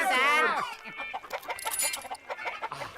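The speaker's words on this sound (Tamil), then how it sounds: "எல்லாரும் சேர்ந்து அந்த கோழிகளை பிடிங்க பிடிங்க" Cartoon chickens cluck and squawk in a flurry as they scatter and escape, starting with a loud rising squawk and continuing as a busy, chattering jumble of close bird calls.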